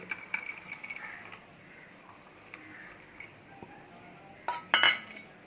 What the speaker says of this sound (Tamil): மிக்ஸி ஜாரில் அரைக்க வேண்டிய பொருள்லாம் போட்டுக்கலாம்